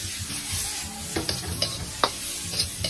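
Squid and shrimp sautéing in a pan for miki bihon, a steady close sizzle with irregular scraping stirs and light clanks of the utensil against the pan.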